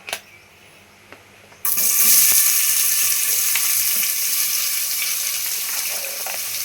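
Cucumber pieces with dried fish drop into hot oil in a pan and burst into a loud, steady sizzle that settles into continuous frying; a few faint clicks come before the sizzle starts.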